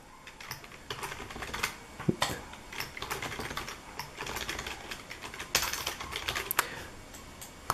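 Keys clatter on a computer keyboard as someone types on an Intel Compute Stick (Cherry Trail) setup, a quick irregular run of close, crisp clicks with a few louder strokes.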